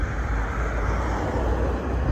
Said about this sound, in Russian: Сигналят такси, летают самолеты.